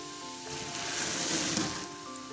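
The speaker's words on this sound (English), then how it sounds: "You can kind of hear it, you can hear it sizzling." Vinegar poured onto a lunar rock mixture gives a soft fizzing sizzle that swells and fades over a couple of seconds, close and quiet, with steady tonal hum from the room beneath it.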